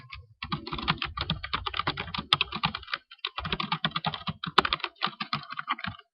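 Rapid typing on a computer keyboard while writing HTML code: close, crisp key clicks come in quick bursts with brief pauses between them, and no one talks.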